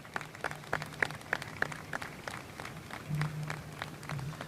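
A graduation crowd at a high school commencement claps for student speakers, producing a patter of scattered, fairly faint claps in a large hall, with a low murmur underneath.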